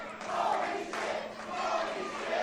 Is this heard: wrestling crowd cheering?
yes